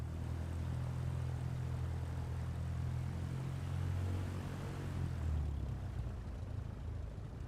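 A Cessna propeller plane taxiing in Microsoft Flight Simulator 2024, a steady low engine drone with a hum that shifts slightly in pitch, continuous and fairly quiet, with no voices.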